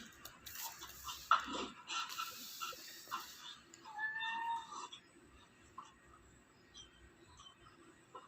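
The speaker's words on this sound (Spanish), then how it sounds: "Era mi gato que me pedía salir." A house cat meows indoors, asking to be let outside, with a few faint, scattered calls and one longer drawn meow midway against quiet room noise.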